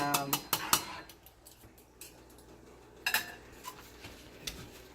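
A metal lid is set onto a cooking pot of oven-baked ribs: a lid with a steam hole in its top. Sharp, close clanks and clatters of metal come at the start, then a few more knocks a few seconds later.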